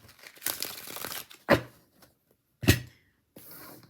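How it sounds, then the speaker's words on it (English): Tarot cards of the Tarot Chimera deck are shuffled in several quick riffling bursts separated by short pauses, soft and close, with no voices. "let's shuffle one more time"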